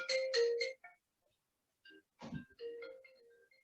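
A phone ringtone plays a few bright melodic notes, pauses, then resumes with a second melodic burst and a dull thump, heard indoors during a health lecture.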